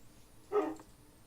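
A single short dog bark in Minecraft, one brief burst over a quiet background.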